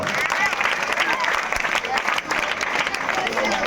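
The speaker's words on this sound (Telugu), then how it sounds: "తేజస్వరి క్లాప్స్ కొట్టండి అందరూ" Audience applause for a student named Tejaswini at a Mega Parents-Teachers Day event at Nakarikallu ZP school, a steady wash of many hands clapping throughout, close and fairly loud, with a voice speaking over it.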